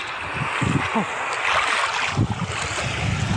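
Sea waves washing in at Hua Hin beach, Thailand, a steady broadband surf wash with wind noise on the microphone, close and continuous, with a few brief voice sounds over it.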